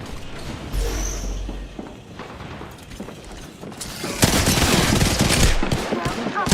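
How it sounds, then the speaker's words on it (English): Gunfire erupts in an Apex Legends firefight, starting as scattered shots under game noise and then swelling into loud, sustained automatic bursts in the final seconds. "I'm spotted, taking fire."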